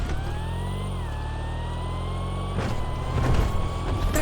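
A custom Sultan RS car in GTA drives along with a steady engine drone whose pitch dips and then climbs slowly, a muted electric-like whine layered over the original engine note, growing rougher and louder near the end.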